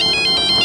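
A phone ringtone plays alone, a bright electronic melody repeating in short steady pulses, as in a tense police-crime drama scene when an informant calls.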